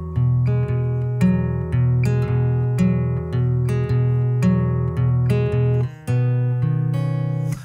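Acoustic guitar chords picked with a swing feel in a worship-song pattern, a steady rhythmic stream of plucked strings with regular accents and changing harmonies, played alone without voices.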